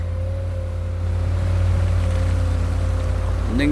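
A Komatsu excavator engine with a Komatsu pump and a 1.2-cubic-metre bucket drones steadily and loudly, a deep continuous rumble with a sustained tone above it, swelling slightly partway through while digging hard shale.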